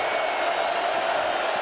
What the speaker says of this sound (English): Utes crowd making some noise here.